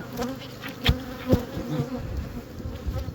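Honeybees streaming out of a freshly opened hive, agitated after being woken early, make a dense, steady buzz close by with a few louder passes, and no one speaks.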